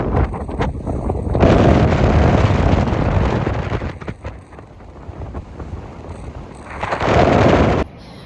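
Strong coastal wind near Albany buffets the microphone in loud, roaring gusts that surge, ease off in the middle, then build again before cutting out abruptly.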